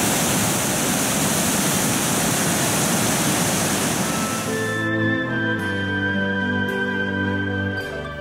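Water rushes loudly through the small and large sluice gates designed by Vauban in 1682 on the Bruche river near Avolsheim, a steady broadband roar for about five seconds before fading into a lower tonal background.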